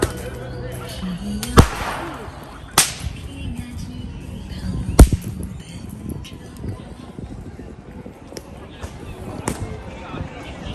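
Several sharp, loud whip cracks ring out at irregular intervals in a park in Shanghai, over outdoor background noise and scattered chatter.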